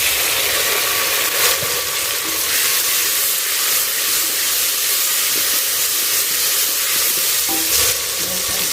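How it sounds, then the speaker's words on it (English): Vegetables dropped into a hot pot for peeled bean stew sizzle and hiss steadily, with stirring and a constant frying crackle close up, no voices. "Then add in the rest of the vegetables."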